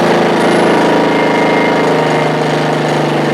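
A Ryobi 1800 gas inverter generator runs steadily up close, its loud, even engine drone holding without a break.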